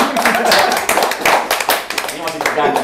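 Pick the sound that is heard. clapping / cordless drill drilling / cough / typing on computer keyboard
clapping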